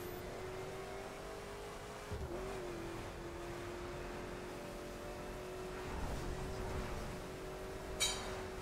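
A Stingray's engine drones steadily in the racing game The Crew as the car spins out, with a brief dip in pitch early on and a short metallic clink near the end.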